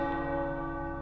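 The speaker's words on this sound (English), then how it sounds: "And the church bells were going off." Church bells ring in the video game Midnight Suns, a single sustained, resonant bell tone that hangs loud and clear for a moment with no voices over it.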